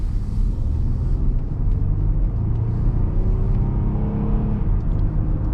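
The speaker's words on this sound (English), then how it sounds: "I'll do a little bit of a faster acceleration here" A 2011 Ford Explorer XLT accelerating hard on the road, with a steady, loud engine rumble that climbs in pitch as it gains speed, over continuous road and tyre noise, with no talking.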